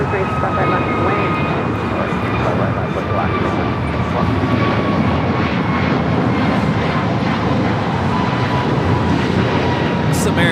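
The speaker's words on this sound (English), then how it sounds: "This is American Airlines 1233 taking off to Washington Reagan National on the A321neo." An American Airlines Airbus A321neo takes off from runway 25 right at LAX, a loud, steady jet roar that fills the whole stretch up close, with voices faintly mixed in underneath.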